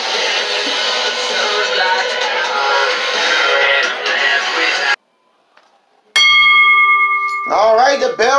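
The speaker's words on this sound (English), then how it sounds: "the bell ring and here we go" A wrestling match bell rings out sharply after a loud crowd roar cuts to near silence, its clear metallic tone sustaining briefly before a voice starts talking over it, at an ECW event.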